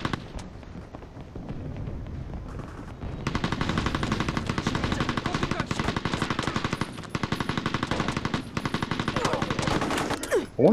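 Automatic rifle fire in the video game Mercenaries, from a weapon using the same round as the AK-47: loud, sustained bursts of rapid shots that build after a quieter stretch and continue almost without pause.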